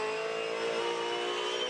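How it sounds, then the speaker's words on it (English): Dunlop Super 2 Series race cars at Bathurst in 2017 closing up under braking, with a loud, sustained engine whine and steady tonal drone close by and no speech. "Closing up under brakes, Hazelwood on LeBrock."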